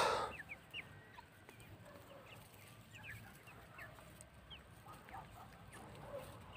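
Three-month-old Brahma chickens cluck in short, scattered bursts at a distance, faint and intermittent against a quiet outdoor background after a brief louder sound at the start.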